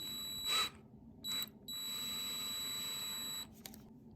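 An electric drill bores out the rivet post on a 1963 Matchbox Dodge crane truck toy, giving a few short bursts and then a steady high-pitched motor whine lasting about two seconds.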